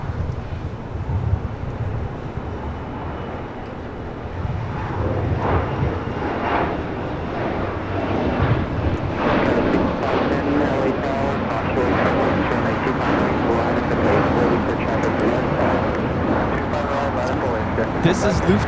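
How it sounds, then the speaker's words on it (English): A Lufthansa Boeing 747-8 Intercontinental jet takes off at Los Angeles airport, a broad roaring rumble that builds and holds loud with wind buffeting the microphone, while people talk intermittently over it. "This is Lufthansa 457 taking off to Frankfurt on the 747-8 Intercontinental."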